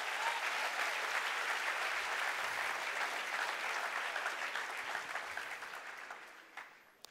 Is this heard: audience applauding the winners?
yes